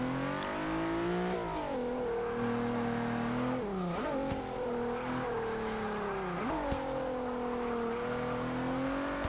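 A 2014 Infiniti Q50 Eau Rouge in Forza 6 accelerates hard, its engine a loud, steady drone rising in pitch through several gear changes with brief dips between, close and continuous, with no one talking.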